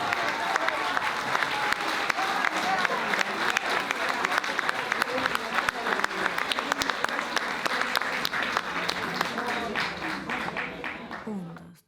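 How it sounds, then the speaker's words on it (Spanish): A school audience claps in sustained, dense applause that stays loud and steady for about eleven seconds, then fades quickly at the end, with voices mixed in under the clapping. "Más fuerte el aplauso."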